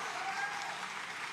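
Crowd at a tennis match clapping and cheering for Koop, a dense, steady wash of applause filling the whole moment, loud and even.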